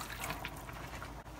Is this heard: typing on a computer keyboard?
no